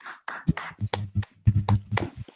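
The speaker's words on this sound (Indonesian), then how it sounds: "Tepuk tangan dulu buat" A school class claps hands in a quick rhythmic pattern for a classmate, with sharp bursts of claps mixed with voices chanting along.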